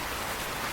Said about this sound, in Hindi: अरे मीठी रानी, इतनी तेज़ बारिश में तुम यहाँ क्या कर रही हो?